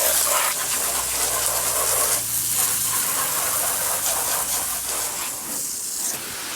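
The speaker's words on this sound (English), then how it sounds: "Now that we water the car, we should water our car mats too." A garden hose sprays water onto a small car and its floor mats outdoors on a sunny day, a steady loud hiss and gush of water that continues throughout, with a low hum under the first half.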